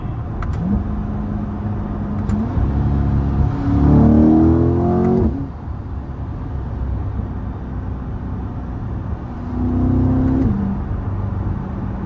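A Chevrolet C8 Corvette on a country road, engine revving up through quick gear shifts with rising and dropping pitch, then cruising steadily before another short climb in revs, heard from inside the car with no talking.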